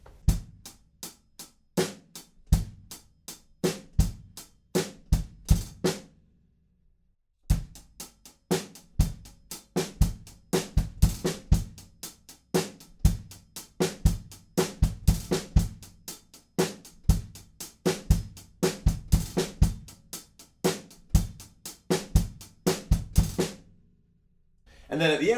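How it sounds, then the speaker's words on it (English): A drum kit plays a groove with steady sixteenth-note hi-hats over kick and snare. The hits are dense and even, with a brief pause near the six-second mark, and no one speaks. "we're playing our same beat again, but we're going to bring in those 16th note hi-hats just like this."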